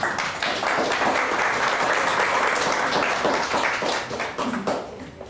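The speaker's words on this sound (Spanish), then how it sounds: "Por favor, la recibimos con un fuerte aplauso." Sustained applause from a large audience at a live medical talk on diabetes and glaucoma, loud and steady, fading slightly at the end.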